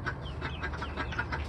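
Chickens cluck outside a new coop in a busy, overlapping flurry of short calls, fairly close, with no talking.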